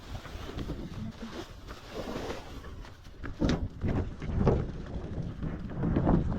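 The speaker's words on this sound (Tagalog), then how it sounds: "Ang lakas ng hangin." Strong outdoor wind buffets the microphone in gusts during rainy weather, a broad steady roar that swells and fades with louder surges.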